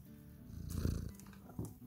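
A domestic cat purrs close by in a quiet indoor room, a soft low rumbling that swells and fades across a couple of breaths, with no one talking.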